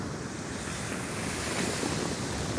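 Big sea waves surge up the shore on the Holderness coast, a loud, continuous roar of surf mixed with wind buffeting the microphone, with no voices.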